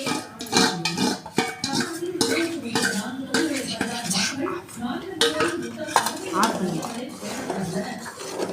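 Ghee and a flour mixture for Mysore pak go into a pan with clattering metal utensils, scraping and stirring, set against ongoing kitchen chatter and background talk.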